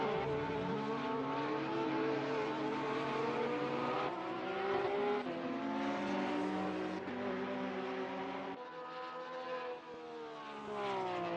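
Ferrari 488 GT3 in a racing video game at Thruxton: a loud, close engine wails through repeated upshifts, pitch climbing and dropping in steady sweeps, briefly easing off near the end before pulling again.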